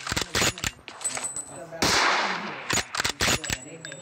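Rifle fire from M24 and M762 guns in a PUBG match: several sharp, loud shots in quick bursts with a longer echoing blast in the middle, and no talking.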